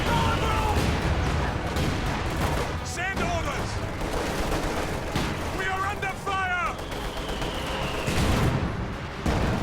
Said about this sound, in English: ISU just continuing to fire on all these infantry.